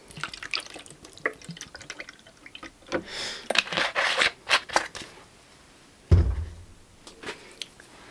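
Water poured into the tray of a Tormek sharpening grinder in a workshop, intermittent splashes and drips with a short louder pour near the end.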